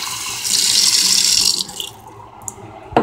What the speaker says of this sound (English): I'll get some water.